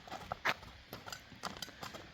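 Hooves of a two-year-old horse clip-clop in a brisk, even rhythm on hard ground, close and distinct, with faint background noise and no talk.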